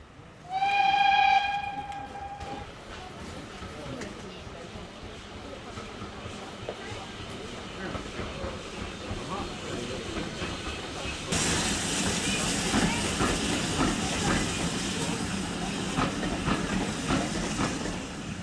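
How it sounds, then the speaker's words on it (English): A steam train whistle sounds loudly at first, followed by the rumble and rhythmic clatter of the train rolling into a station on the Severn Valley Railway, with hissing steam growing louder toward the end. "a train arrived about once every half hour, making for plenty of train traffic for me to film"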